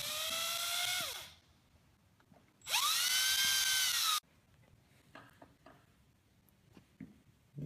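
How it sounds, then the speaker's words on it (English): An electric drill boring a hole for an axle: two close, loud bursts of high whine, each spinning up and winding down, separated by quiet handling noises. "I'm just trying to drill a hole that I can just jam that axle onto."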